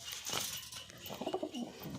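Soft, low cooing from a breeding pair of pigeons comes in a few short rounded phrases over a hissy background, fairly faint and somewhat distant.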